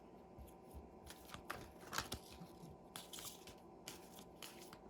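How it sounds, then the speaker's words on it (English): Papery rustling and soft snapping of cards being shuffled, a few brisk bursts over a steady low background hum. "I'm having heck trying to shuffle right now."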